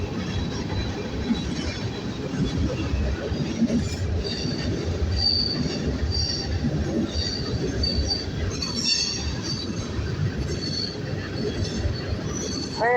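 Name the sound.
Norfolk Southern freight train passing, wheels squealing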